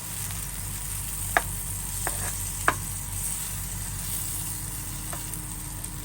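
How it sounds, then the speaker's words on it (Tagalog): Butter sizzles steadily in a pan while kilawin baboy is being cooked. The soft, continuous frying hiss is broken by a few sharp utensil clinks against the pan. "ito na po, naglagay po tayo ng butter."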